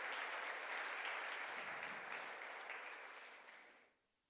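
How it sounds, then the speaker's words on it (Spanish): A church congregation applauds during a sermon, a dense, even roar of clapping that holds steady, then tapers off and stops near the end. "Denle un aplauso al Señor"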